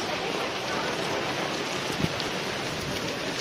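Steady, dense monsoon rainfall pours down close by at a market, a continuous hiss of drops on surfaces with one brief louder thump partway through.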